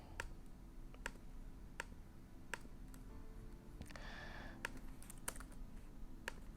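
Rapid keyboard typing while transcribing a novel, with sharp keystroke clicks in quick irregular bursts close to the microphone over a low steady hum, and a brief soft rustle in the middle.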